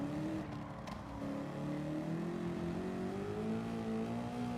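Race car engine in Gran Turismo 7 drones steadily at high revs with a gradually rising pitch, loud and continuous with no talk over it.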